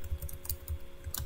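Quick typing on a computer keyboard, a brisk run of soft, close clicks in uneven rhythm, fairly quiet and with no voices.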